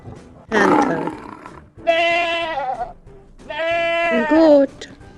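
A goat gives two long, loud, quavering bleats close by, preceded by a short rough, breathy burst, with brief pauses between calls.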